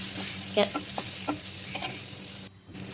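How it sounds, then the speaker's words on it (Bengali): Wild yam stalks being stirred in a pan with salt, a soft continuous sizzle broken by scattered scraping and clinking of the spatula, with a short quiet gap near the end. "স্বাদ মতো লবণ দিয়ে নেড়ে চেড়ে জলটা একদম টানিয়ে নেব"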